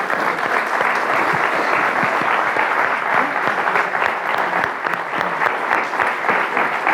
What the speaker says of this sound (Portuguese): Uma salva de palmas para Rui Reininho e Capicua.